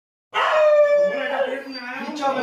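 A street dog howls close by near a litter of newborn puppies, a single sustained wavering howl starting abruptly and trailing off over about two seconds, with no talk.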